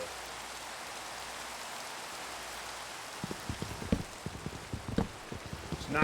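Minecraft rain hisses as a steady wash at first, then clustered drops patter more distinctly over the last few seconds, with no voices.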